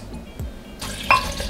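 Water poured into a sauce of cilantro, jalapeno, sour cream and lime juice being mixed in a kitchen, a short splashing pour that starts partway through and runs briefly, close and clear with no talking.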